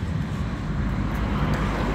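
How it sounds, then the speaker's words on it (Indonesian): A noisy jet ski engine runs nearby as a steady broadband roar, continuous and fairly loud throughout, with no voices. "Ada orang lagi main jet ski, berisik."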